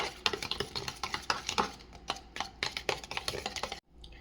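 A whisk or spoon beats curd with sugar in a bowl, producing rapid, rhythmic scraping clicks close by that stop abruptly near the end, with no talk.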